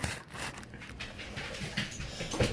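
Dogs panting and whimpering in a home kitchen during baking, breathy rhythmic panting with a few soft whines, close and continuous.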